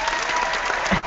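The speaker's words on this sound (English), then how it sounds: "give them some applause" Brief burst of steady audience applause for show sponsors at an interior design broadcast, a dense crowd clapping continuously at moderate volume.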